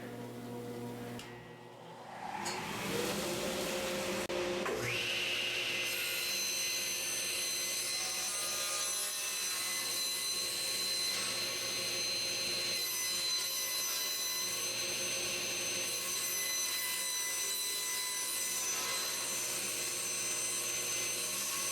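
A power saw, part of a beekeeper's woodworking for mating nuc boxes, spins up after a short pause and then runs steadily in a loud, continuous whine as it cuts wood, close and without voices.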